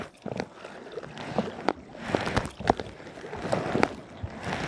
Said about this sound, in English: this is just me paddling down the Shannon